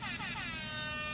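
A loud, blaring air horn holds one steady, brassy tone through the whole second, with no voices around it.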